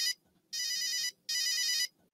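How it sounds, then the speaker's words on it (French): A phone ringtone chirps in two long trilled bursts after a short opening blip, clear and alone with no voices. "J'ai entendu, ça faisait une sonnerie."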